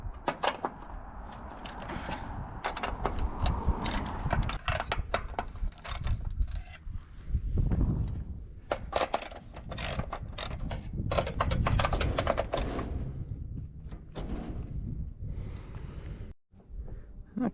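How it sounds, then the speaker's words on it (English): Fittings on evacuated-tube solar manifold piping being loosened on a roof, with repeated metallic clicks, ratcheting and clanking from a wrench at an irregular pace, close and continuous through most of the stretch. "I'm loosening the manifolds so I have a little bit of wiggle room"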